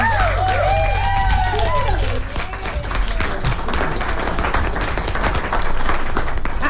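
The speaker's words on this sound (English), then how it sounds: "thunderous applause for Philomena" Thunderous applause from a talk-show audience for a guest fills the room, dense and sustained, with a brief musical sting and voices at the start before steady clapping carries on loudly.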